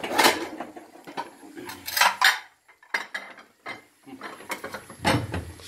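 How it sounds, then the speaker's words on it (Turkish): Ceramic plates are pulled out in a home kitchen while serving saç kavurma, giving a quick series of clinks, scrapes and rattles of dishes, close and irregular with brief pauses between knocks. "Şuradan ben bir tabak çıkarayım."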